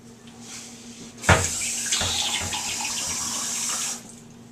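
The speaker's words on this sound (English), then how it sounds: "I'm going to put about 2 cups of water in there so that it will help steam and cook" Two cups of water poured from a faucet-like stream into a roasting pan holding a skinless wild turkey, a steady splashing rush lasting several seconds, close and fairly loud, with no talk.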